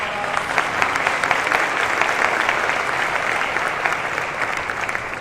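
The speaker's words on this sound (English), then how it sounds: "Please give them a big round of applause." An audience claps steadily for members of Congress at a maternal and infant health summit in a Washington convention center, a dense, even round of applause without speech.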